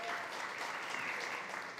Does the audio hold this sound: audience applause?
yes